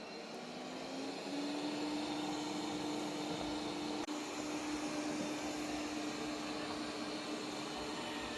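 A Yeedi M12 Pro Plus robot vacuum runs on its strong suction setting, a steady broadband whoosh with a rising whine that settles into a constant tone, near and continuous.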